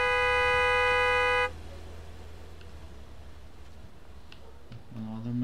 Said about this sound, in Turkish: adamlar hemen kornaya basıyorlar.